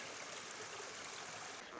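A mountain stream on the Pacific Crest Trail near the Suiattle River rushes steadily nearby, a constant broadband wash of flowing water with no other sounds.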